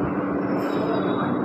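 Kolkata local train running over a flyover, a steady broad rumble with a faint high whine, heard from inside the carriage.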